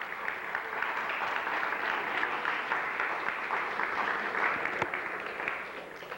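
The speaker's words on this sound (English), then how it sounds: "I think they deserve a round of applause" An audience in Chicago applauds steadily, a continuous wash of many hands clapping at moderate distance, fairly soft overall and without talk.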